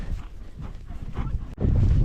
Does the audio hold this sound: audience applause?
no